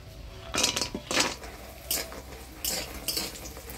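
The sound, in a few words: frying dried lentil dumplings in mustard oil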